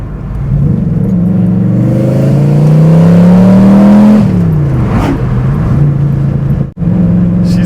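A V8-swapped Pontiac Fiero accelerating hard on the road, engine revs climbing loudly through a gear before a shift drops the pitch, then building again, heard from inside the car with no talk.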